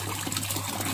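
Water pushed by a pump through a hose trickles steadily into a pond filter container built from a fridge, a close, continuous soft splash over a low electrical hum.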